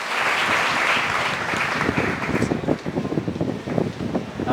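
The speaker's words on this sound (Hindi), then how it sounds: "जोरदार तालियों के साथ सर का स्वागत करें" Loud, sustained applause from a seminar audience welcoming a police sub-inspector to the stage, a dense wash of clapping that grows sharper and more uneven toward the end.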